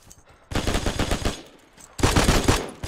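Two loud, close bursts of rapid machine gun fire in Hell Let Loose, each lasting about a second and a half, with a brief lull between them and no talking.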